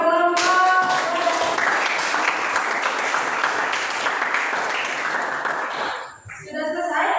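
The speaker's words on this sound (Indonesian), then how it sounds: "tepuk tangan buat kelompok." A classroom of students breaks into a burst of clapping for a student group, several seconds of dense, close applause that fades out, with voices speaking before and after.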